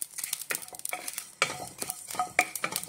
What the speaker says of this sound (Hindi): थोड़ा सा सौंफ, जीरा और धनिया पाउडर, इसको अच्छी तरह से भून लेंगे